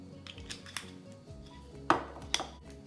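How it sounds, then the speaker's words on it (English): Homemade keto sausage ingredients with avocado oil mixed in a bowl, giving soft clinks and scrapes of utensil against dish, with two sharper knocks near the end. "I'm gonna go ahead and mix it up."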